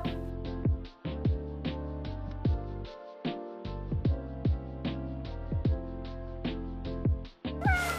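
A small cat meows repeatedly over a steady tonal musical backing, each meow a short rising-falling cry recurring every second or so, loud and close, with no talking.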